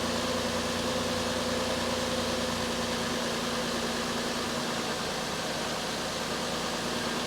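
A Nissan Frontier engine idles with a fresh serpentine belt, a constant close hum and hiss under a faint steady drone that holds unchanged from start to finish.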